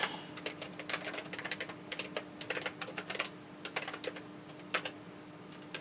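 Keys clatter on a Tandy computer keyboard in quick, uneven bursts of typing with brief pauses, close and fairly quiet over a low background hum.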